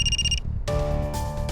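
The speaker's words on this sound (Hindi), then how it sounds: "सर, आशा के ससुर का फोन है।" A phone ringtone chirps in a short electronic burst, pauses, then rings again with a steady tonal melody, fairly loud and close.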